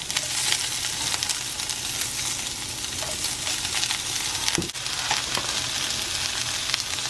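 Green onions sizzling in hot olive oil, a loud, dense, steady crackling hiss with a brief clink partway through.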